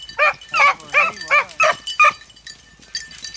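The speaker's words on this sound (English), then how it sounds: "that's where he barked last" A beagle barks and yips in a rapid series of about six sharp, loud, nearby calls, followed by quieter whines and faint noises.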